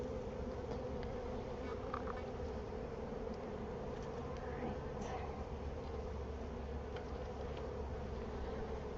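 Honeybees buzzing inside a live hive, a steady dense hum that fills the whole stretch with no break, close and even in level with faint scattered ticks over it.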